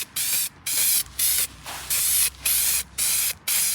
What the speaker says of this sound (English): you can spray this on actual grass, actual shrubs, living plants, and it will not kill them